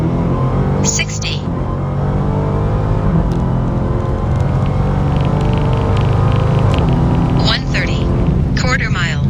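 A stock 2019 Dodge Hellcat Redeye roars steadily at full throttle down a drag strip, a loud continuous engine drone, with a voice talking at the start and end.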